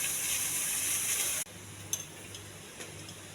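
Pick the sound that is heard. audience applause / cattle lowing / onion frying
onion frying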